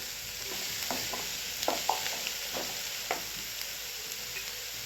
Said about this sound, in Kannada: ಒಂದು ಫಿಫ್ಟಿ ಪರ್ಸೆಂಟ್ ಇದು ಫ್ರೈ ಆಗ್ಬೇಕು ರೀ